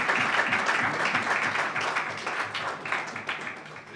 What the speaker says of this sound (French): Applaudissez très fort pour Madame Barbara Canal.